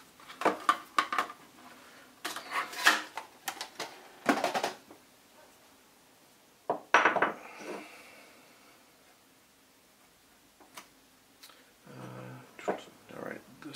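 A box holding a Leupold scope mount is opened, with cardboard flaps and packaging rustling in scattered bursts while a person talks nearby.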